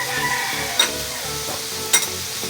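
Black beans and tofu are stirred in a pan, a steady sizzle carrying two distinct scraping strokes of the utensil against the pan.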